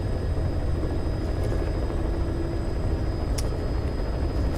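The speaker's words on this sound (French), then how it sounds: "Nous sommes dans notre hélicoptère." A helicopter's steady, droning rotor and engine roar in Metal Gear Solid V: The Phantom Pain holds constant throughout, with no voices.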